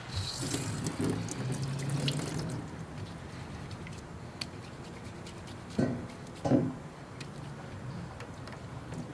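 Water running from a tap while a garden item is washed, a steady close splashing flow that fades lower midway, with a couple of brief louder splashes near the end.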